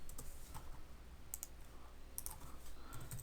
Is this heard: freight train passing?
no